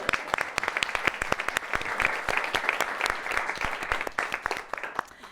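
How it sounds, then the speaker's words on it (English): Dense applause from a large political convention audience in Chicago fills the room, steady and sustained with crisp overlapping claps throughout. "Give yourselves a round of applause, Chicago."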